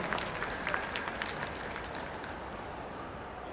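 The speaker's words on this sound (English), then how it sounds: "A nice round of applause" Spectators applauding at the Crufts 2016 inter-regional obedience ring, a steady, distant patter of many hands in a large hall that fades gradually.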